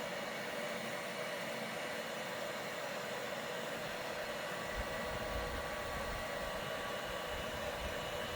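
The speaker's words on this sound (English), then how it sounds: "that's why I'm using a heat gun" A steady, hissing rush of blown air from a heat gun held close, running without a break, with no voices.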